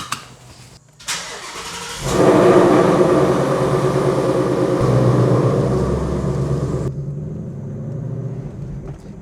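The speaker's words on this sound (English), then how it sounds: "we're going to go for a little test drive and see how it feels" A Ford Mustang S550 on a test drive, its engine starting with a short burst and then settling into a steady, loud, close interior rumble of driving and road noise before easing off; no one speaks.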